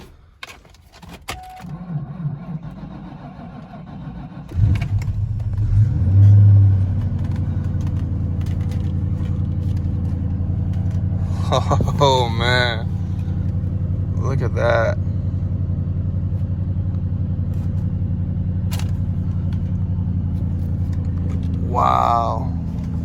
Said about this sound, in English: I'm gonna try to start it up for you guys